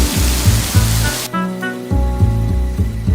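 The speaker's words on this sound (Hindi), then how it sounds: "बीच रास्ते में ही बड़ा सा बारिश शुरू हो गया था।" Heavy rain in a Hindi animated moral story pours as a loud, steady hiss over background music for about the first second, then cuts off while the music carries on.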